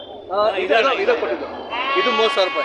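Sheep bleat at the Kerur sheep and goat market, with a few drawn-out calls heard close by while people talk over them.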